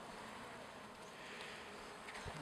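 Honey bees hum at an open backyard hive during an inspection, a faint, steady, continuous drone with no voices over it.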